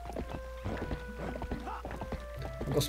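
Horse hooves clip-clopping at a walking pace in the video game The Legend of Zelda: Twilight Princess, a quick, even patter of close hoofbeats with faint game sounds around them.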